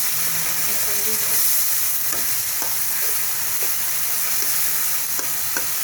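Ground cumin, chilli, turmeric and coriander with tomato hitting a hot pan for a fish curry, a loud steady sizzle with occasional stirring scrapes and small pops.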